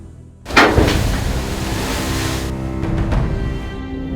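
Large waves up to 25 feet high in the North Atlantic crash with a loud surge that settles into a sustained roar and wash, heard up close and without voices.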